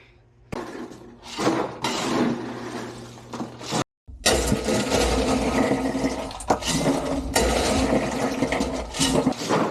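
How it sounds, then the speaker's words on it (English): Ice from an ice machine bin tumbles into another bin with a loud clattering rush of cubes. A brief break follows, then a long sustained pour with sharp crashes, close and dominant. "I'm gonna empty the ice machine bin into this bin"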